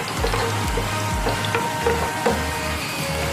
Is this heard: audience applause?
no